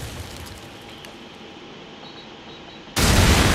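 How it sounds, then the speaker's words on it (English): Grenade detonation in Call of Duty, a sudden loud broadband burst near the end after a stretch of quieter game ambience, with no talk. "hold it in for just over 2 seconds for an instant detonation"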